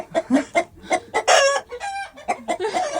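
A Galician rooster clucking close up in a quick, choppy run of calls, then breaking into a loud, drawn-out crow before more clucks.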